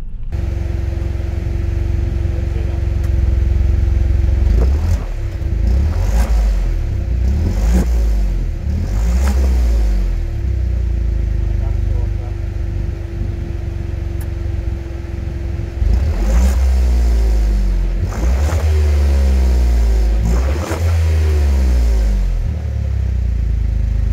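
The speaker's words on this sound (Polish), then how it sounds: "Na LPG silnik jest nieco głośniejszy, bo wtryski hałasują" A Dacia Duster 1.0 engine running on LPG hums and rumbles close by, rising and falling through several revs and accelerations with a steady drone between them.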